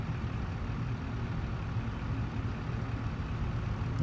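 Idling engine of a Land Rover Defender in the Farming Simulator 22 game, a steady low rumbling drone that holds evenly throughout, no voices.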